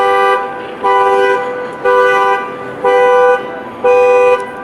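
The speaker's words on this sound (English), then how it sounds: "Don't you love it when a car alarm goes off and cops show up from everywhere?" On a city street in Midtown, a car alarm or horn blares in five loud, evenly spaced electronic tones, each about half a second long, with short gaps between them.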